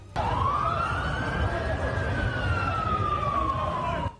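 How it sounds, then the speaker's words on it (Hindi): A police siren wails steadily, its pitch slowly rising and then falling, loud and continuous over a rumbling background of traffic. "पूरा इलाका पुलिस की गाड़ियों के सायरन से गूंज उठा"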